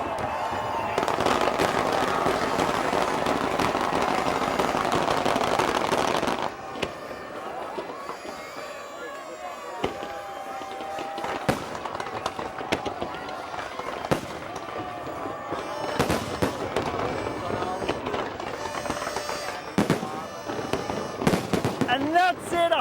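A huge New Year's Eve firework display over Palm Island in Dubai, with about 100,000 fireworks going off. A dense roar of blasts is followed by scattered sharp cracks and booms while a voice talks over the show.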